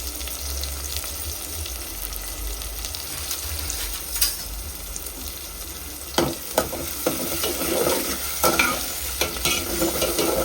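Onions and small shallots frying in oil for a fish curry, a steady sizzle throughout with stirring scrapes and clinks growing busier in the second half, close and fairly loud.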